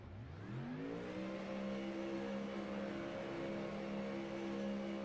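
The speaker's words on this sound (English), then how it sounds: "I could hear the car revving" A GT3 race car engine in iRacing at Bathurst revs and climbs in pitch, then holds a steady high drone over a constant background hum.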